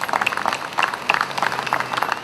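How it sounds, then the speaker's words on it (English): An audience at a Flag Day ceremony in Plainfield, New Jersey applauds Public Works staff with steady, moderately loud clapping from many hands that holds throughout. "Give them a round of applause, please."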